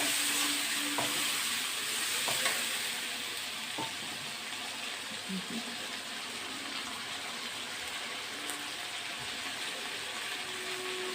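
Chopped onion frying in a pan with cumin and green chili paste stirred in, for a Bangladeshi rui fish curry with bottle gourd; a steady, moderate sizzle runs throughout with a few faint clinks of a stirring spoon.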